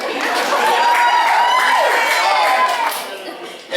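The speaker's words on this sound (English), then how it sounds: "Hey, you guys can make some noise." A crowd at an intimate acoustic concert cheers and whoops loudly, the shouting swelling and holding before fading toward the end.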